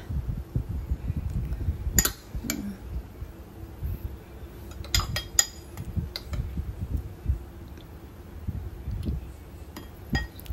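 Minced beef and bacon toppings spooned onto homemade bacon cheeseburger mac and cheese, with light clinks of a spoon against a dish at scattered moments over a low, steady background.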